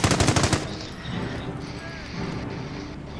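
Rapid machine gun burst in the Company of Heroes strategy game, a loud run of about six quick shots opening the moment, then a busy battlefield din of distant fire and effects with a voice talking over it.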